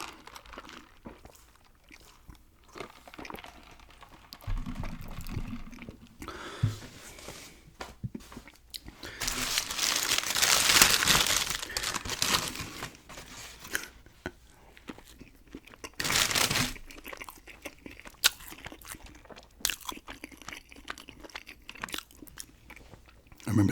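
Someone unwraps and eats a McDonald's two-cheeseburger meal up close and quietly, with crinkling wrapper paper, soft bites and chewing, and bursts of louder rustling from handling the bag.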